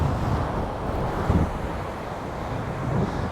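Wind gusts steadily across a Northumberland beach at night at Cambois, a low continuous rumble buffeting the microphone, with faint surf beneath.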